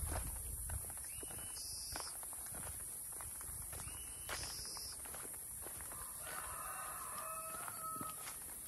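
Rooster crowing in a quiet rural village beside a mangosteen plantation in the late afternoon, with a couple of calls standing out over steady outdoor ambience and a few footsteps.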